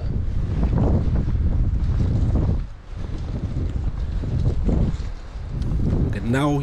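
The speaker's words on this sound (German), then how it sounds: "Hier drückt der Wind echt nur rein." Wind gusts buffet the microphone beside a pond while ultra-light fishing, a strong rumbling roar that swells and dips, briefly easing before building again.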